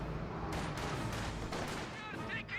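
Light artillery barrage in Company of Heroes 2, a steady roar of distant shell bursts and rumbling impacts lasting throughout, with busy battlefield noise layered over it.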